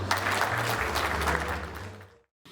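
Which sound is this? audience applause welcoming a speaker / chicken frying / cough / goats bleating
audience applause welcoming a speaker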